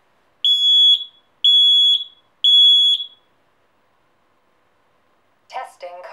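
A Nest Protect battery smoke and carbon monoxide detector runs its smoke test, sounding three loud, evenly spaced piercing alarm tones, followed after a pause by a brief synthetic voice announcement.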